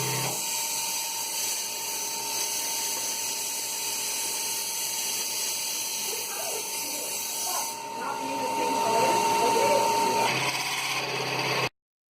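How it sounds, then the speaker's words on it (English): Drill press boring holes in metal with cutting fluid, a continuous high whine with a grinding cutting texture building toward the end before stopping abruptly. "Let's see how those holes were made on the drill press"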